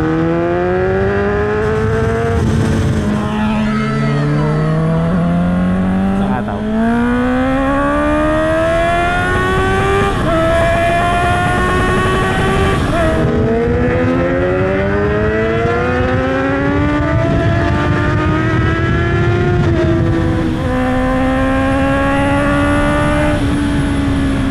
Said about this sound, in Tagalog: ang ganda-ganda ng tunog ng inline 4